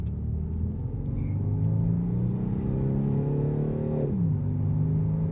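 Peugeot 308 GT 2.0 HDi diesel with Aisin automatic accelerating from inside the cabin, a steady loud engine drone climbing in pitch before a brief dip at a gear shift, then pulling again, with no talk.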